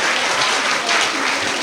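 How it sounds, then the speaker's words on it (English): Church congregation at a religious jubilee clapping for a nun: dense, loud, steady applause from a nearby crowd over a short burst. "A round of applause to Sister Philomen."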